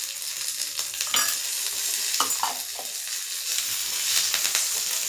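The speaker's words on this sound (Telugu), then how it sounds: "ఇవి కొంచెం దోరగా ఫ్రై చేసేసుకొని కొంచెం పసుపు వేద్దాం." Ingredients for a ginger chutney fry with a pinch of turmeric in a pan on the stove, giving a loud, steady sizzle with scraping stirs of a spoon against the pan, close up and without talk.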